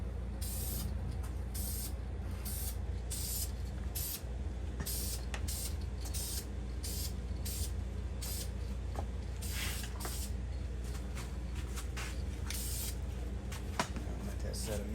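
An aerosol can sprays a coat of paint onto a 383 engine block while it is being cleaned before assembly. There is a continuous close hiss broken by short pulses, with someone speaking briefly under it.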